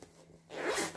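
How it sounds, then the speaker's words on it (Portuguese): A zipper sewn into fabric is pulled open in one short, close rasp that follows a brief quiet moment. "eu vou abrir o zíper"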